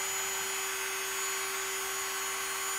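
A small drill press runs at about half its maximum speed while drilling via holes in a planar microwave circuit board. It gives a steady, continuous motor whine with a fixed tone and no speech.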